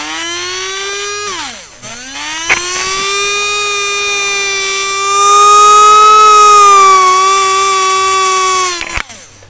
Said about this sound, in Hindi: इस मोटर डीसी मोटर को वाइंडिंग किया जाता है और कितना मस्त ये घूम रहा है